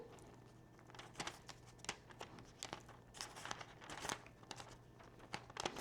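Paper Bible tab being folded and pressed down, heard as soft, close crinkles and crisp crumpling bursts in an irregular rhythm, quiet overall with no talking.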